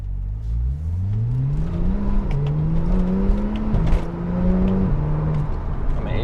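A Porsche 911 Turbo S of the 991.1 generation accelerating hard, its engine note climbing in pitch through several quick gear steps, loud and close.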